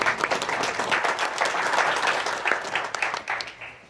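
Audience applause at a district candidate debate, a dense burst of many hands clapping steadily at moderate volume, tapering slightly at the end, with no talking over it.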